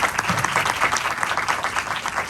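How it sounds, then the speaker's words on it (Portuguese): An audience applauds after a lecture on psychology and diversity, dense steady clapping from a crowd lasting a couple of seconds, with no speech over it. "Mais uma salva de palmas para eles, por favor."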